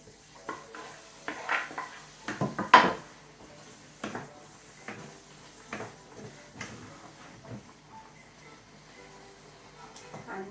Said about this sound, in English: Veggies going in.